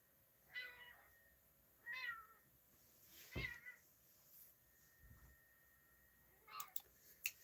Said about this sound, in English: Cat is being super noisy.